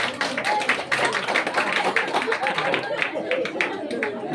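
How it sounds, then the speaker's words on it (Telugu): An audience claps for performers at a Christian Christmas song event, with steady, rhythmic applause running throughout under talk. "అందరికీ ఒకసారి చప్పట్లు కొడదామా?"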